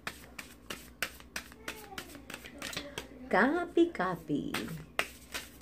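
Tarot cards are shuffled by hand in a series of sharp riffles and taps at close range, a rapid run of crisp clicks with someone talking over them.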